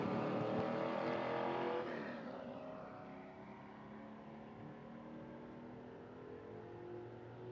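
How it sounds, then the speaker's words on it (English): A nitro drag racing car runs solo down the track at an IHRA Outlaw Nitro Series event at Milan, its loud roar fading and dropping in pitch as it pulls away into the distance, with no talk. "So Adkins on the bye, just goes down the racetrack, takes the beam"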